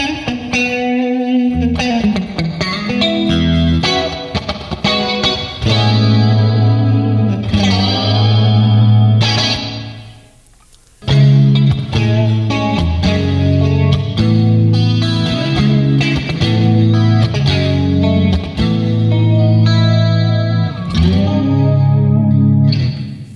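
Music processed through the Legends Verb reverb plugin on its Mainframe 76 space preset, with sustained chorused tones and swelling reverb tails. The music plays loud and continuous, drops out briefly near the middle, then comes back in.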